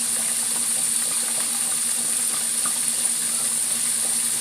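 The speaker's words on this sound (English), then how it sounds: "Now what I'm going to do is let my fritters cook up for about 2 minutes on each side, or until they turn golden brown" Zucchini fritters sizzling in a pan, a steady close crackling hiss with no break and no talk.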